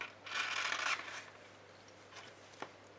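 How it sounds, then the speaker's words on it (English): A pencil tip scraped briefly across sandpaper, a soft, close gritty rasp lasting under a second, then a few faint scratches. "my pencil really sharp on a piece of sanding or a piece of sandpaper"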